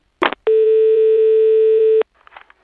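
A steady telephone line tone sounds loud and alone for about a second and a half after a brief click of a handset being hung up, followed by faint noise.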